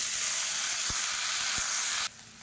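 Loud, steady sizzling of chopped tomatoes frying in hot oil for chutney, close by, with a couple of faint knocks before it drops off abruptly.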